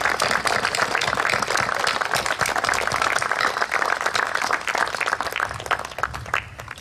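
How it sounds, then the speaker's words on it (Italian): Sustained, dense applause from a dinner audience honouring the Rugby Pordenone club, a steady wash of many hands clapping at full volume for several seconds before easing slightly at the end. "un grande applauso"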